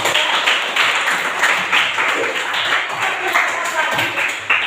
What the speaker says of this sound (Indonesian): Ya, tepuk tangan untuk mereka